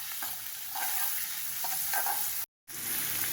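Sliced onions sizzle and crackle steadily in a hot pan over low heat while a utensil scrapes and stirs through them, with a brief dropout near the end.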